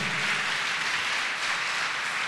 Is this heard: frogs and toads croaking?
no